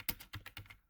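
Quick, faint keystrokes on a computer keyboard, about six soft taps in under a second.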